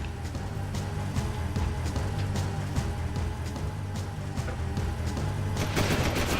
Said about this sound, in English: You can't just be shooting those guns everywhere.